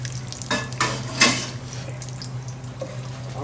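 Bay leaves dropped into smoking-hot oil in a pan crackle and sizzle briefly, with a couple of sharp utensil clinks over a low steady hum.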